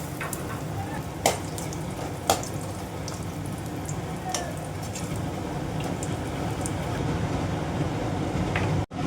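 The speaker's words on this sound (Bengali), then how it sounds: "মাছ ভাজা হয়ে গেছে তো বড়ি ভেজে নেবো" Bori (lentil dumplings) sizzle in hot oil in a pan after fish has been fried, a steady loud crackling hiss with a few sharp ladle clinks, ending abruptly.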